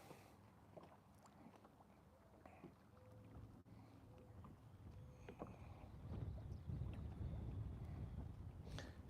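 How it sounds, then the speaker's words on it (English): Wind gusts over a main lake during a bass fishing outing, a steady low rumble of buffeting on the microphone with light water lapping against the boat, swelling louder toward the end. "Still windy though out here on the main lake, Chris."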